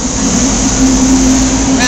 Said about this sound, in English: somebody's starting their engines